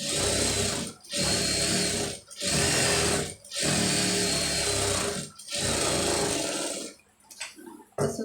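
A sewing machine runs in long bursts while stitching a blouse sleeve, with five steady stretches of motor whirr split by short pauses, then quieter handling sounds at the end.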